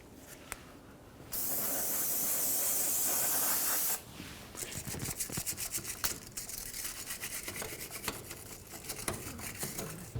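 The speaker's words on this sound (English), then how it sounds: "Use a little brush and some parts cleaner" Parts cleaner sprays in a loud, steady hiss for a few seconds while the transmission area of a 2010-2013 Ford Transit Connect is cleaned, then a small brush scrubs in quick, scratchy strokes up close.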